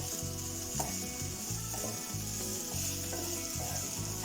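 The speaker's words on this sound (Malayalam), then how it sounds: "ക്യാപ്സിക്കം നന്നായിട്ട് വഴറ്റണം, അല്ലെങ്കിൽ അതിൻ്റെ റോ ടേസ്റ്റ് ഉണ്ടാവും." Garlic, green chilli and capsicum sauté in a pan with a continuous soft sizzle and a few light stirring scrapes, close and fairly quiet, with no talking.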